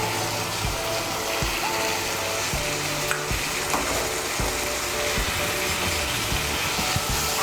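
Spice masala for chickpea ghugni sautéing in a pan, a loud continuous sizzle broken by repeated scraping stir strokes and light utensil knocks, close up with no voices.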